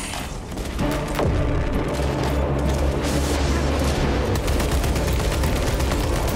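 Dense, continuous gunfire and booming explosions fill a Warhammer 40K Space Marine II battle, loud and unbroken, with no voices over it.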